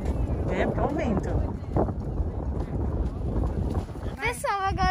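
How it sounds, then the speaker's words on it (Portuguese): Wind buffets the microphone at a sunflower farm, a steady low rumble running the whole time under people talking, with a brief high electronic chirp near the end. "É, porque é o vento."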